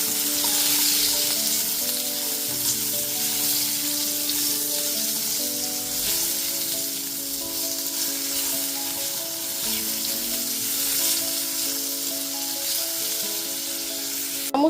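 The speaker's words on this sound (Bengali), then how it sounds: "এবার লবণ আর হলুদ গুঁড়োটা মিশিয়ে আলুটাকে লাল লাল করে ভেজে নেব।" Potato pieces coated with turmeric and salt fry in hot oil, giving a steady, loud, close sizzle that holds without a break. There is no talking, and a faint clink comes at the very end.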